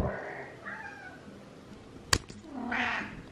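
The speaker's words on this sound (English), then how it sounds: "That meow." A cat meows in drawn-out, wavering calls. There is a quieter one at the start, a sharp click partway through, then a louder, close meow at the end.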